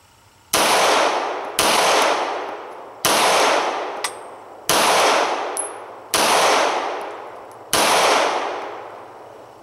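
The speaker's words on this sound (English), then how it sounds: "I'll shoot the first shot double action and then I'll transition to 5 shots in single action" Six 9mm shots from a SIG P226 pistol, the first fired double action and the rest single action, ring out loud and close at an even pace, each crack trailing a long ringing decay.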